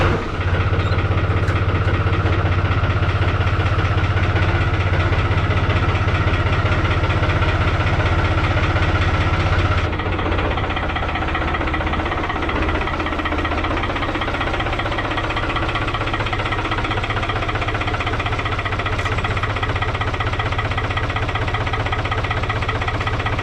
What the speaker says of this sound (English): I drive the tractor out into the sun